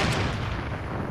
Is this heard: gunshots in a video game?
yes